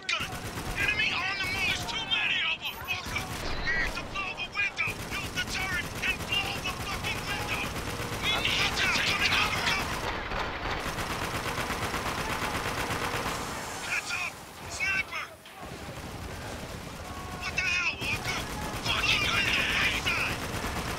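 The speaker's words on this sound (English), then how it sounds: "I'm shooting the window!" Gunfire shooting at a window in the video game Spec Ops: The Line, dense bursts of automatic fire going on and off over loud game noise, with people talking over it.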